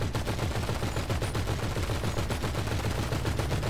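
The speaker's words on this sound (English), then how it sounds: "Eugene, if you shoot that back row there, they'll just spin out." Rapid, loud gunfire rattles through a GTA mission as shots are aimed at the back tyres of a car, a dense continuous burst of automatic-weapon cracks with no talking over it.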